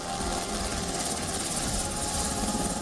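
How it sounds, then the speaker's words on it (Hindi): A helicopter lands on the White House lawn, giving a steady, loud, broadband rotor and engine roar that holds evenly throughout. "व्हाइट हाउस के लॉन में एक विमान लैंड कर रहा है।"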